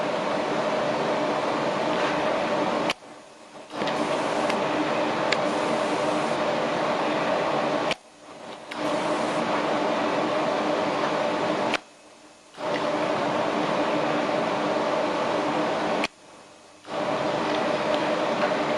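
Composite waterproof sheet and gasket being joined on an ultrasonic welding machine: a loud, steady broadband hiss-hum runs in long stretches, cut by four short near-silent pauses between welds, with no voices.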